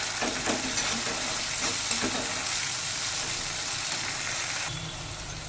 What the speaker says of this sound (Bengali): এবার একটু নেড়ে চেড়ে একটু কষে নেব